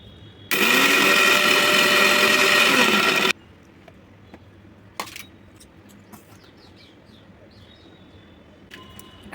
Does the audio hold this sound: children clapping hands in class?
no